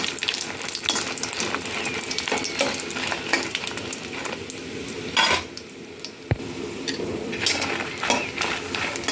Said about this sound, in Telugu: కొబ్బరి వేయించుకున్నాం సిమ్లో పెట్టి వేపుకోండి మంచిగా ఉంటాయి మాడిపోకుండా